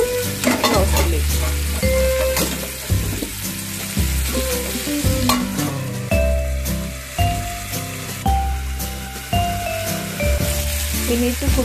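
Chicken cooks in olive oil in a lidded pan with dry curry leaves, a loud continuous sizzle running beneath stepped background music.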